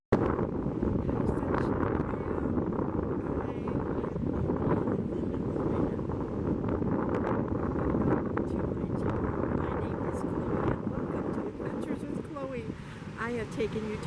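Wind blows steadily outdoors at a scenic spot, a continuous broadband rush buffeting the microphone throughout, with speech heard over it near the end.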